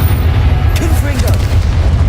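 A Confringo fire spell in Hogwarts Legacy bursts with a deep, low boom that rumbles throughout, while a voice calls out over the blast.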